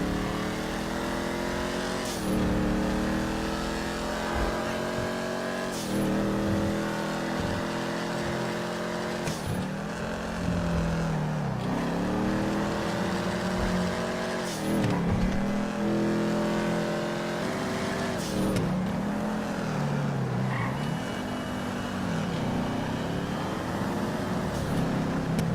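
A car driven in GTA Online during a Fleeca Job heist, its engine revving continuously and loudly, rising and dropping through repeated gear shifts with no pause.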